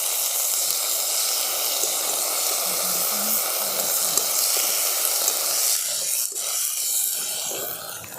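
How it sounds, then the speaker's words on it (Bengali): Black cumin, ground ginger and green chili hit hot mustard oil in a wok, a loud even sizzle that holds steady, then drops slightly after a stirring clatter late on. "কড়াতে দিয়ে দিচ্ছি আর একটু সর্ষের তেল, ফোড়নে দিয়ে দিচ্ছি কালো জিরে, এরপর দিয়ে দিচ্ছি বেটে রাখা আদা আর কাঁচা লঙ্কা"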